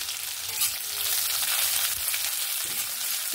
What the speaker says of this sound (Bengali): ভালো করে পেঁয়াজটাকে ভেজে নেব।